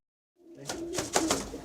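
Racing pigeons coo in a loft of young birds, a short, close, throaty burst of murmuring that starts after a brief silence.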